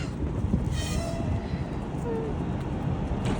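A passenger train rumbles along with a steady low roar, a faint horn-like tone rising briefly near the start and soft rail clatter throughout, heard from inside the carriage.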